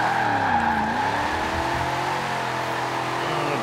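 A stock 1969 Dodge Charger Daytona Hemi in Forza Horizon 4 holds a steady, loud engine drone with pitch wavering through a gear change, alone without talk.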